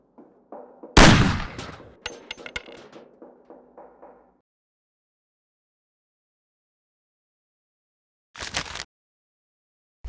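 Gunshots fired at cans on a table in the Mafia video game tutorial: a sharp loud shot followed by a rattling burst, silence, then one more shot near the end.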